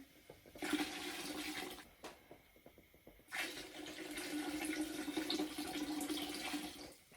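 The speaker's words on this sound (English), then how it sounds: "I'm just going to go ahead and add a little more water." Water pours steadily into a pressure canner being readied for processing quarts of pasta Bolognese, a broad rushing splash running in two bursts with a short pause between them, close and loud with no talk.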